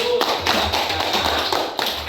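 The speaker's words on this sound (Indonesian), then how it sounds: "kita kasih aplaus terlebih dahulu" A class of pupils applauds with a burst of quick, irregular clapping close by, some louder claps standing out over a slight background murmur.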